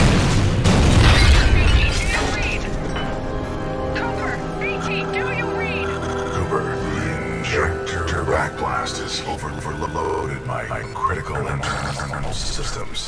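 The Fold Weapon in Titanfall 2 fires with a loud booming blast that swells in the first two seconds, then gives way to a long rumbling, shimmering wash of game effects and music.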